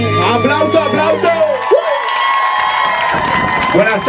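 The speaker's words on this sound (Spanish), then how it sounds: "Aplauso, aplauso." At a summer pool party, a crowd cheers, shouts and claps loudly over music, with excited voices rising before the music drops away.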